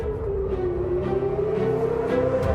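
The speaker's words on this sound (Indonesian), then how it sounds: "saat sirine meraung di seluruh kota" Air-raid sirens wail across a city during a missile attack, a steady, droning rise-and-fall tone that continues without a break under faint background rumble.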